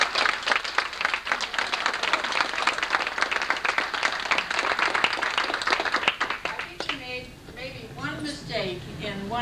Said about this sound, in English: I make the motion that we give him a round of applause for that